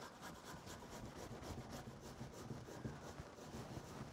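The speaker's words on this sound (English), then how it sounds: "So I'm gonna grate this." Peeled fresh ginger is rubbed back and forth on a grater in quick, rhythmic rasping strokes, close and fairly quiet, with no talking.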